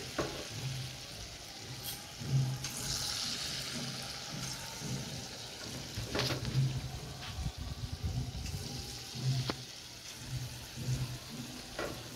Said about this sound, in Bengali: ভাজাটা মা বললে একটু দেখাতে, তাই তোমাদের সাথে শেয়ার করছি।